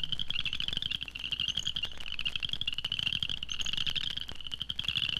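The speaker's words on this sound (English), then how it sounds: "Cricket frogs. The microphone is right down there among them in the bog." Cricket frogs calling in a bog, recorded up close among them: a dense, continuous chorus of rapid clicking, rattling calls, steady throughout with no voices.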